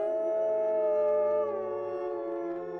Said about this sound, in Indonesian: Sayup-sayup Sasa mendengar lolongan anjing, menambah kesan menyeramkan.